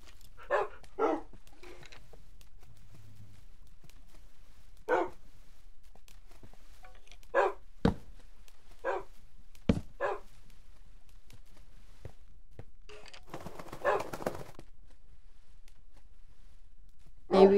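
Several short dog barks from a video game ring out separately over near silence, with occasional faint footsteps between them.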